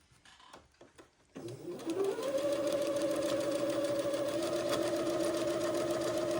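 After a few light clicks, a sewing machine starts up and runs steadily, stitching a French seam on an Eton suit with a close, even mechanical hum and rapid needle rhythm.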